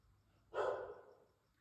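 A dog gives a single short, fairly loud bark in a quiet indoor room, followed by silence.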